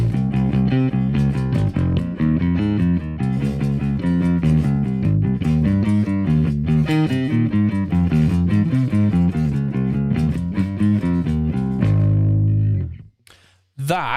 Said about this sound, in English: that's the sound of kind of alternative American rock